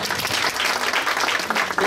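Loud, dense applause from the audience at the Miss Waasland 2022 beauty pageant, many hands clapping close and steadily throughout, with no talk over it.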